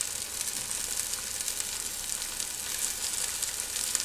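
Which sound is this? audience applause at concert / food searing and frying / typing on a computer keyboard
food searing and frying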